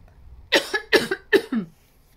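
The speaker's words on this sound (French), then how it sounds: "Je suis désolée, je tousse." Four sharp coughs in quick succession, close and fairly loud, with a brief pause after the first, then quiet.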